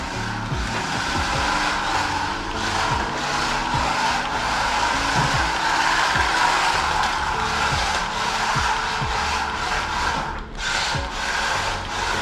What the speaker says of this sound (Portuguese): Realmente o carrinho manda drift